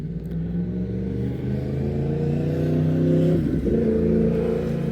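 Near a junkyard, a loud vehicle approaches and passes, its engine rumbling and revving with a deep, rising growl that swells toward the middle and holds steady.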